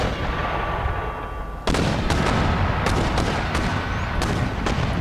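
Musket and cannon fire from a battle in the strategy game Empire: Total War: a dense, continuous rumbling roar of massed volleys, with sharp individual reports cracking through repeatedly, loud and sustained with no talking.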